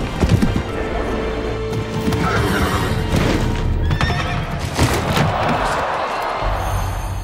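A horse whinnies loudly, with hooves clip-clopping and thudding around it in a show-jumping drama. Several neighs rise over a busy background, with no one talking.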